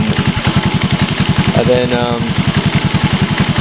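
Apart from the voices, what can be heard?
Honda TRX125 ATV engine running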